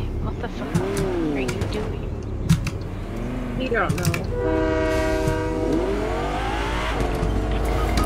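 Train horn blaring in Fortnite as a train rumbles past, the sustained horn rising loud over rolling rail noise, with scattered voices under it.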